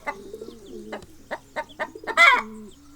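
Chickens and hens on a farm cluck in short repeated bursts, with one louder, harsher squawk near the end over a low steady hum; close by and with no talk.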